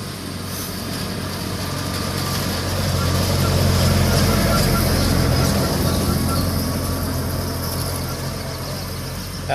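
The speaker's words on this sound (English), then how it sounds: "Oh, here comes the Jeep." A passenger Jeep passes by on a rural hiking route, its engine a steady low drone that swells as it draws closest and then slowly fades, with faint voices in the background.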